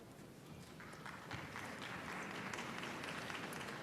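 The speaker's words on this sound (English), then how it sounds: "Please hold your applause so that all the names can be heard." Applause rises at a university commencement ceremony in Kentucky, starting faint and swelling into a steady, distant crowd clapping that fills a large hall.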